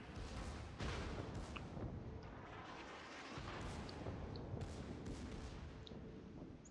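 The Bismarck's secondary guns fire at a Warspite in World of Warships, booming naval shots and rumbling blasts rolling one after another at fairly low level, with faint sharper reports scattered through.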